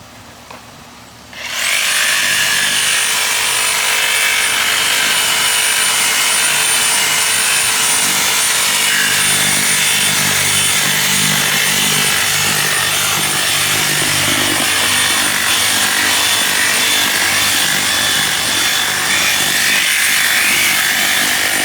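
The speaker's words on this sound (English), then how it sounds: "Alright, now we're gonna cut it. The sawzall section." A sawzall reciprocating saw cuts through a heavy, dirt-laden clump of overgrown weeds, starting after a brief quiet moment and then grinding and rasping loudly and steadily for the rest of the clip, close up and without talk.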